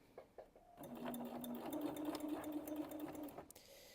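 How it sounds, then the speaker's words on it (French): Domestic sewing machine stitching fabric, a quick burst of rapid regular needle strokes with a steady motor hum lasting about three seconds, close and fairly quiet, with light handling clicks before and after. "On pique l'aiguille dans le tissu et on est parti pour quelques points avant, quelques points arrière"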